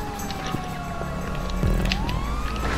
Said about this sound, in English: Yeah, police car race.